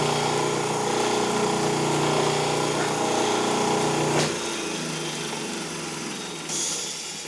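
A restored Canedy-Otto camelback drill press runs with a steady motor hum and mechanical whir for about four seconds, then spins down after a sharp click, leaving a lower fading tone.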